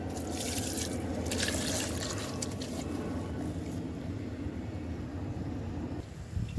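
Liquid fertilizer pours and splashes steadily onto a hibiscus plant in a garden, a close, continuous watery trickle that fades toward the end.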